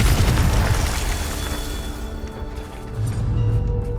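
A Confringo spell bursts in the video game Hogwarts Legacy with a deep, loud boom. A rumbling tail fades over a couple of seconds, then a second low thump follows.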